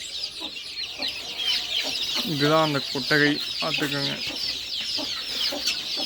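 Siruvidai chickens cluck and murmur inside a sunlit shed on a chicken farm, a lively nearby flock chattering steadily while someone talks over them.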